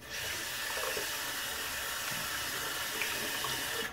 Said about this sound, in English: Rinse it real fast.